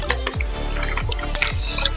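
Water trickling into a bowl of spiced flour batter for Punjabi dhaba-style chicken, a few close dripping, gulping plops in quick succession, with no talk.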